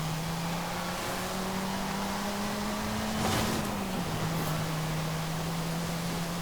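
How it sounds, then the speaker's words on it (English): A Volkswagen Scirocco races in the Forza Horizon 5 video game, its engine holding a steady mid-pitched drone that dips briefly as it shifts, then settles again under a light hiss of road noise. "All round great car that Scirocco."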